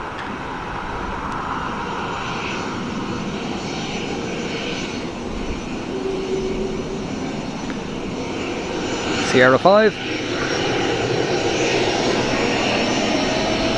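An American Airlines airliner at Dublin Airport, bound for Philadelphia, spools up its jet engines for takeoff. The engines build into a steady, broad roar that grows louder toward the end. A brief radio call cuts in partway through.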